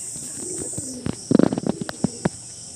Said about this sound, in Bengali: বড় ছাতির পায়রা, দেখুন কত সুন্দর বড় ছাতির পায়রা।